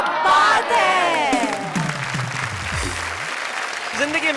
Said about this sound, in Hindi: भाई यहाँ तालियां हैं, ठहाके हैं